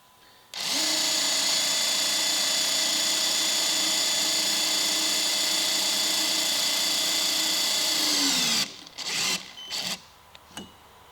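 HYTORC Lion torque gun tightening a bolt, a loud, steady high-pitched motor whine that starts abruptly, holds for about eight seconds with a slight drop in pitch at the end, then cuts off into a few short clunks and rattles.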